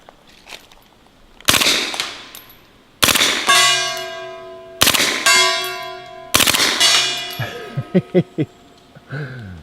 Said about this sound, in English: Let's put a little full automatic fire quietly on the gong.